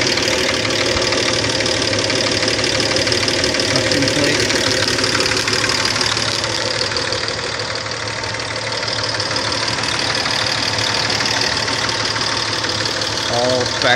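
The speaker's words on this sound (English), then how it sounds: "The original six-cylinder engine." Original six-cylinder engine of a 1950 Chevrolet Skyline Deluxe convertible idling steadily and loudly up close, a continuous rumbling drone with slight knocking texture for the full stretch.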